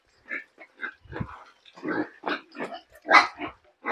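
Young fattener pigs grunting and squealing in a pen, a close run of short, irregular grunts and snorts, loud and busy with no talk over them.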